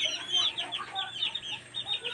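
A Sweater bulik gamefowl rooster clucks and chatters continuously at close range, soft and busy, over a faint low hum.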